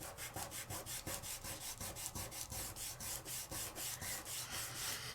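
A layering stencil being burnished down with a tool for a microfine glitter craft project, giving a steady run of quick rhythmic rubbing strokes, close and fairly quiet.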